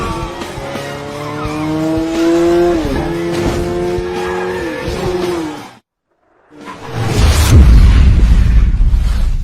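Kawasaki Ninja ZX-12R superbikes race on a circuit, loud engines revving and whining with gear shifts, then a brief silence before a roaring rush of noise as a bike crashes.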